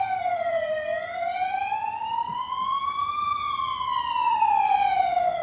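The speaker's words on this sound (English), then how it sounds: "And of course, there's always a siren" A police siren wails on a Budapest street near Gellért Hill, its pitch sliding slowly up and down in long sweeps. It holds loud and clear throughout, with faint traffic underneath.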